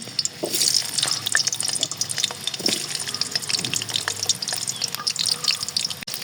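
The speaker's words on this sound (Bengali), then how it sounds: "কড়াইতে তেল দিয়ে দিছি। আর এখানে আলুটা আমি একটু ভেজে নেব।" Potatoes frying in hot oil in a wok, a dense steady sizzle and crackle with small pops throughout, close and continuous.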